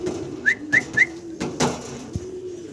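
Pigeons at a pigeon farm give three quick, close whistling calls in a row, followed by scattered softer coos and rustles in a quiet setting.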